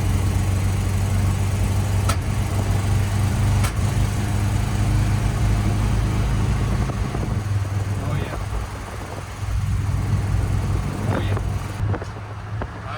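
An old Dodge Monaco engine runs steadily with a low rumble, sounding slightly uneven and breaking up, with occasional clicks over the continuous drone.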